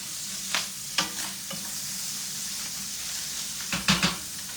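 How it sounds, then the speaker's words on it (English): Venison sizzles steadily in a hot skillet with peppers, with a few sharp pops and the scrape of a utensil stirring the pan, close and with no one talking. "You can hear the popping and cracking of the deer meat, the venison."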